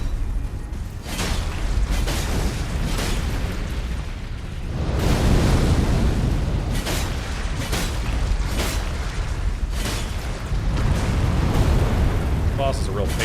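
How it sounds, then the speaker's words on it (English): Rumbling, booming bursts from a boss's spherical explosion in the Elden Ring Shadow of the Erdtree video game, loud and dense, swelling in waves under a continuous roar. "Spherical explosion."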